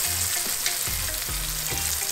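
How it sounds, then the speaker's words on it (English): Loud, steady sizzling of fish frying in a pan, a bright continuous crackle up close, with faint low thumps underneath. "Enjoy the fish frying."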